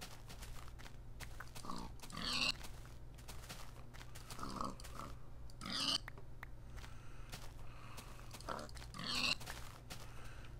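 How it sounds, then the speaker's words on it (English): A pig in a video game gives repeated low grunts and snorts at intervals of a few seconds over a steady background hum, close and clear, with no talk. "now that I can lay my eyes on a pig, I might as well take it"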